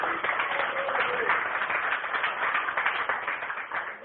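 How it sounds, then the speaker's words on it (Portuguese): A church congregation claps hands together for Jesus, a steady continuous patter of many palms filling the room at moderate volume, with a faint voice briefly audible early on. "Bate palmas para o Rei Jesus."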